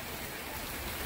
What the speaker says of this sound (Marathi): मोठ्या प्रमाणात पाऊस सुरू आहे।